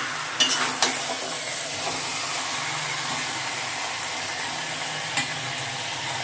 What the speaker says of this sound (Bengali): ভাজা আলুটা দেওয়ার পর আলুটা মাংস মশলাতে একটু কষিয়ে নেব।